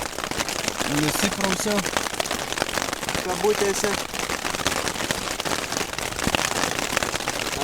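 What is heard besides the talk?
hail and rain pelting on a tent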